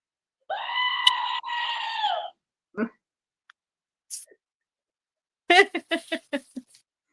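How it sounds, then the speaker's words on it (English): A screaming goat sound effect: one long, loud, wavering scream near the start, then a few short bleats and a quick run of sharp cries toward the end, separated by gaps of silence. "Morning, screaming goat."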